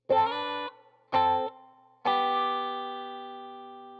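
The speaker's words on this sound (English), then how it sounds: "begins with a little bit of wah-wah on the guitar" Electric guitar with a wah-wah sweep plays three separate chords; the last rings out and fades slowly, with no voices.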